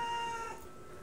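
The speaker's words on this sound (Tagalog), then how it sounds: "Mabait yan pusa na yan." A house cat gives a short, clear meow close by in a home kitchen during cooking, a single tonal cry that fades within about half a second into low room noise.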